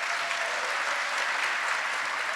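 An audience at a school district's State of the District event applauds its ASL interpreters and language service providers in a brief, dense, even burst of clapping.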